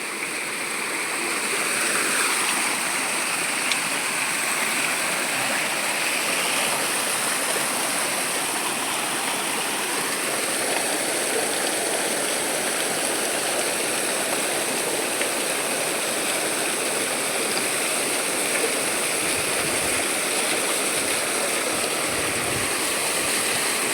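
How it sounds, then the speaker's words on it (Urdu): A rainy-season water stream rushes past in a steady, loud, continuous roar that fills the whole stretch, with no voices. "یہ بارش کے موسم میں آنے والا پانی ہے"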